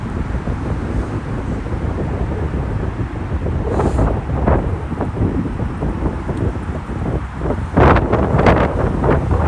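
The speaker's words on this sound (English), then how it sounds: "Going against the headwind right now, so when you come back it should be tailwind" Strong wind buffets the microphone during a DJI Mini 3 Pro drone flight into a headwind in early February, a steady broadband rumble and roar that swells in gusts for the whole stretch.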